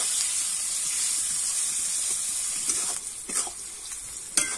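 Chopped onion fries in a pan with a loud, continuous sizzling hiss, broken later by a few scraping stirs and a sharp clatter near the end; no one speaks.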